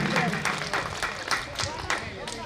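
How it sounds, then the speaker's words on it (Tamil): Audience clapping steadily at a school celebration, a dense patter of many hands filling the space at moderate loudness throughout. "அவருக்கு ஒரு சிறப்பான ஒரு கைத்தட்டல்களை கொடுக்குமாறு அன்புடன் கேட்டுக்கொள்ளப்படுகிறது"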